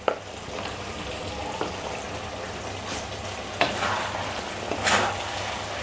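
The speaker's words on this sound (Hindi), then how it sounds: "इसको मिक्स करके थोड़ी देर के लिए कवर करके छोड़ देते हैं।" Okra sizzling in a hot pan with salt and amchur powder, a steady frying hiss punctuated by occasional scraping stirs of a spoon against the pan.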